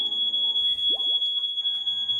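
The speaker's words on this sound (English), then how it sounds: "That's my smoke alarm." A household smoke alarm emits a sustained, piercing high-pitched tone that holds steady throughout, with a few faint background noises and no speech.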